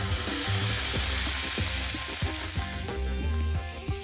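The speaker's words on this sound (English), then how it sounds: "lower the flame and let's add in turmeric along with red chili powder. Let's give this a mix." Turmeric and red chili powder frying in a pan as a spoon stirs them, a dense close sizzle with rhythmic scraping strokes running throughout.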